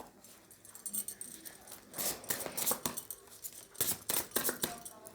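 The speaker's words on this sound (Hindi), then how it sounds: "I am going to shuffle again." Tarot cards are shuffled by hand in a quick series of close, crisp riffling and slapping bursts that grow busier toward the end, with faint handling noise between them.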